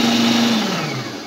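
A Walita Master Pro RI7746 food processor running on its grating setting, a loud close motor whine that drops in pitch as it slows down.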